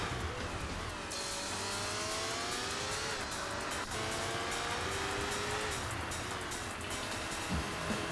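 An expensive race car in Sega GT Online runs at full throttle, its engine whining through gear changes with rising and falling pitch, tire squeal and loud, steady roaring throughout.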